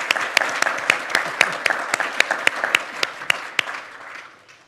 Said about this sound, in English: we might give them a warm and most well-deserved round of applause